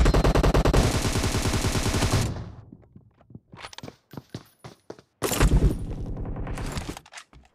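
In PUBG Mobile, a loud automatic weapon fires a rapid sustained burst, then scattered single shots and short spurts, before another long rattling volley.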